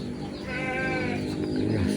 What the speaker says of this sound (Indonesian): Ya kita dengar itu ya, ada kambing hutan